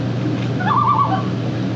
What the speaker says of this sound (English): That's the loon calling me